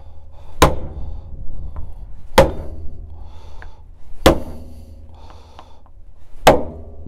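Small chopper hacking a lamb carcass, four sharp, loud chops spaced about two seconds apart, each a single heavy thud with quiet handling between.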